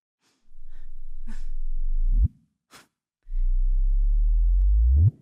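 Gravitational-wave chirps from merging black holes converted to audio, the December 26, 2015 event set against the September 2015 event: two loud, clean tones, each sweeping upward from a low hum and ending in a sharp rising whoop, alone with no talk.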